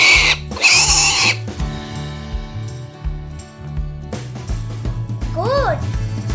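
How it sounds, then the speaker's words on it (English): Pig sounds from a farm-animal sound collection, brief grunts and a rising squeal near the end, heard over a steady, bouncy music track. "Pig is the amazing bundle of cuteness."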